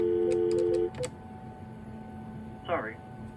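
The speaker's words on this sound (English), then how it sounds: "That's an internal dial tone, and I'll dial this phone." Keypad dialing tones sound on an internal phone line, a dial tone cut by a few short beeps and clicks from button presses, with someone talking.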